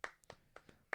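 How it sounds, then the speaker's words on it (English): Bare hands clapping close by, five or so sharp, dry claps in an uneven rhythm with short gaps between them, with no talk. "I can't clap and talk at the same time."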